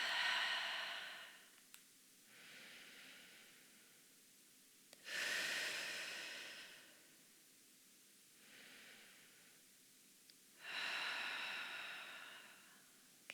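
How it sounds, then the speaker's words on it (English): Slow, deep belly breathing, close and soft, in three long cycles, each a gentle inhale followed by a longer, louder airy exhale, with quiet pauses between. "Another 3 deep belly breaths."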